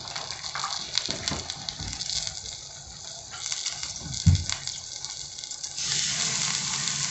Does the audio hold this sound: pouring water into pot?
yes